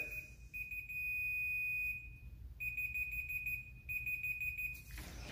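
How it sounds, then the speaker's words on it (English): Continuity test beeps from a Fluke 117 multimeter sound close and shrill, one long steady tone followed by a series of shorter repeated beeps with brief gaps between them and no voices. "We're getting our beep and we're down to zero."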